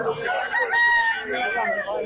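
Chickens cluck and squawk close by at a market in Mirpur, a steady, noisy chorus, with a few drawn-out calls rising above the rest.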